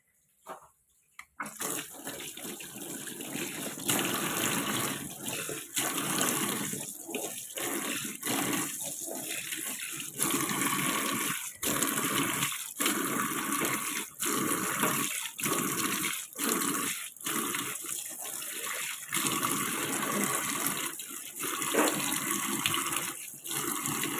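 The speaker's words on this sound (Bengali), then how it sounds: "এবারে পরিষ্কার করে নিচ্ছি বেসিনটাকে" Tap water runs steadily into a kitchen sink basin being washed of oily grime, a continuous near splashing wash broken by short pauses and shifts as hands scrub, with no talking.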